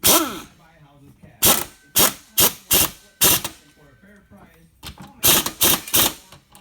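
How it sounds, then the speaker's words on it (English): An impact wrench with a 9/16 socket tightens a centrifugal clutch bolt, firing in a series of short, loud, sharp bursts close by, with quiet gaps and low talk between them. "I'm gonna finish it off with my impact wrench using a 9/16 socket"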